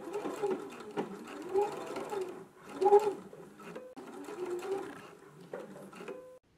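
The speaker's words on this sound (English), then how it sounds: "I'm going to go ahead and do mine by machine here. Just put a couple stitches to tack it down." A domestic sewing machine putting in a couple of tacking stitches on a garment, several short whirring bursts separated by pauses, quiet and close.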